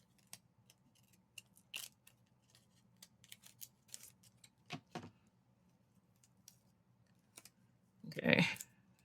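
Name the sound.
scissors cutting paper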